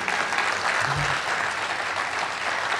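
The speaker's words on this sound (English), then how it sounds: "He can hear you clap up there" Memorial audience applauding steadily for about three seconds, a dense, even wash of clapping with no pauses or voices standing out.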